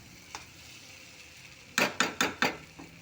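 Catla fish oil sizzles faintly in a pan, then four sharp, evenly spaced scraping clatters of a utensil against the pan break through, followed by a softer final tap.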